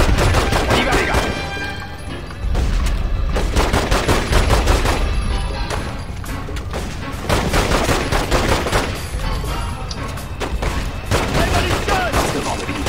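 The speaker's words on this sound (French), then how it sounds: "Où est-ce que ça tire?" Sustained in-game gunfire from The Godfather II on PC, with dense bursts of rapid automatic shots and scattered single reports rolling continuously and loudly throughout, with no pauses.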